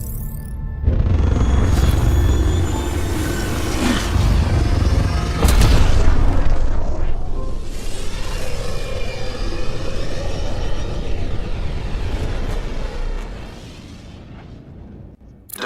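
Tempest spaceship from Mass Effect Andromeda departing: a loud, sustained deep roar and rumble with a heavy boom near the start and another surge midway, fading slightly toward the end.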